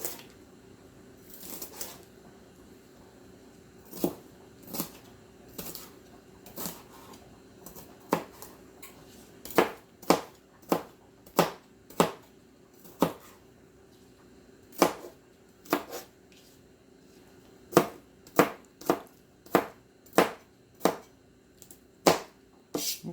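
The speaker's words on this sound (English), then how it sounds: "Let's quickly chop this one up." Knife chopping through a deseeded vegetable on a cutting board for a shrimp macaroni salad, sharp distinct cuts, irregular at first then settling into a steady rhythm, close and clear over a quiet background.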